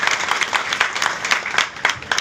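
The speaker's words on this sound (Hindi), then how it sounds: "इनके लिए जोरदार तालियों से स्वागत करो" A crowd at a political party gathering applauds to welcome a speaker, with uneven bursts of clapping that rise and fall, while a voice calls out over it.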